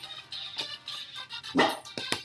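A dog barks indoors at home as someone arrives, a few sharp barks spread unevenly across the moment, fairly close and moderately loud, with no talk over them.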